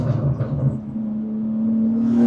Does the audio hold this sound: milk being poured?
no